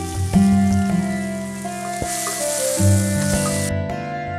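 Chopped onion frying in oil with ginger and garlic, a steady close sizzle and crackle with a few stirring knocks, while a tonal hum carries on underneath.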